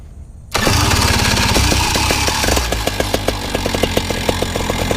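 Paramotor engine cranking on its electric starter, then catching and settling into a loud, rough idle right up close, with a steady chugging pulse running throughout.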